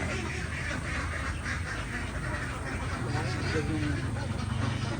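Ducks quacking on a rural Philippine poultry farm after a typhoon flood, a steady dense chorus of calls and honks over outdoor ambience, with people talking faintly in the background.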